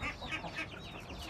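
An Aseel chicken clucks in a quick series of soft, fairly faint calls, several short notes close together.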